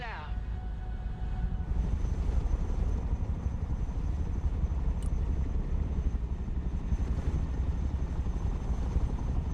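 A Chinook helicopter flies in a video game, its rotors a steady loud drone with a dense low rumble, continuous throughout, with faint game sounds and speech mixed in.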